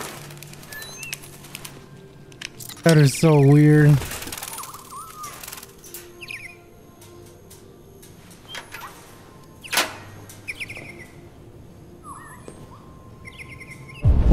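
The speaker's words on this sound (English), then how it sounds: "Is those are robot birds?" Robot birds in Detroit: Become Human chirp and tweet in a loud, rising bird-call burst early on, followed by scattered fainter chirps and clicks against game ambience, with a brief remark spoken over it.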